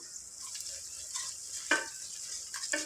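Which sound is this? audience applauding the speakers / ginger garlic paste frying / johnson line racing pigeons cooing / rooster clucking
ginger garlic paste frying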